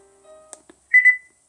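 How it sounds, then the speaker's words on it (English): A Bluetooth outdoor speaker turned down to its lowest volume gives a short, clear two-part whistle tone, brief and isolated in near silence after faint quieter notes. "there's the whistle to let me know that that's as low as it can go"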